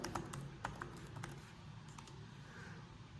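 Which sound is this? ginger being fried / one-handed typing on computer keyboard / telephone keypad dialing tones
one-handed typing on computer keyboard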